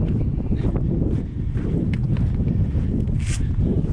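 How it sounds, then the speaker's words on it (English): Steady wind buffets the microphone with a low, continuous rumble throughout, with faint outdoor sounds beneath it. "It's quite windy."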